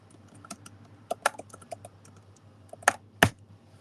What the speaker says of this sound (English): That's a good slam on that keyboard.